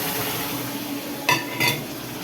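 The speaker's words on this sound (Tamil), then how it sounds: "இதை நல்லா கிளறிக்கலாம்." Roasted semolina being stirred with hot water in a pan for mango kesari, a soft wet churning with two brief scraping clinks of the spoon against the pan over a low background hiss.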